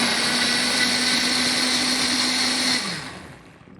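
A countertop blender purees tomatoes with garlic, oregano and basil in a steady, loud motor whir that runs evenly and then winds down and stops near the end.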